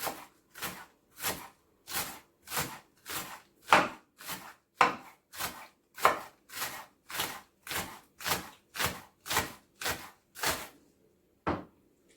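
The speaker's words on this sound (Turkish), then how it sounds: "Biraz da soğanlarımı sizinle beraber doğrayalım şöyle ince ince." A knife finely chops onions on a board, a steady run of about nineteen sharp, evenly spaced thuds heard up close, with a short pause before one last cut.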